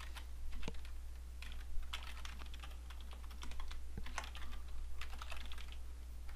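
Keys clatter on a computer keyboard as a part name is typed into Civil 3D design software, a steady run of close, crisp clicks with a couple of sharper taps over a faint low hum.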